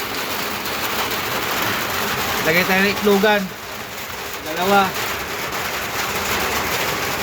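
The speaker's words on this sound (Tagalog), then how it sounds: "Naabot tayo ng malakas na ulan." Steady heavy rain hisses across the whole clip, heard from under a shelter for poultry, with a person speaking briefly over the downpour.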